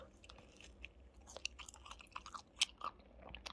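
Close, crunchy chewing and biting of assorted foods from around the world, with irregular wet bites and crisp crunches and no talking.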